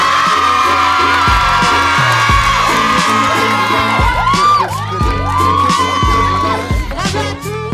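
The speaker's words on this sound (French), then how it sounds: "on applaudit très fort l'équipe gagnante du relais de la persévérance scolaire 2017" A crowd of students cheers the winning team of a 2017 school perseverance relay, with loud overlapping whoops, shouts and rising yells from many young voices, continuous and close throughout.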